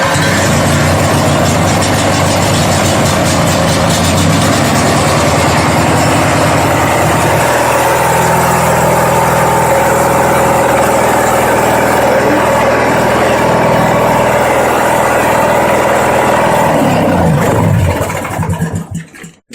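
A lawn mower engine, freshly given a valve adjustment and a little choke, catches and runs loud and close. Its rough, throbbing idle steadies after several seconds and holds, then cuts out at the very end.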